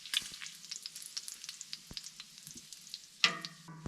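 Bacon frying in a skillet at an outdoor winter camp in a frozen forest, giving a steady, faint sizzle and crackle broken by sharp pops and a few scraping clinks, with no talking.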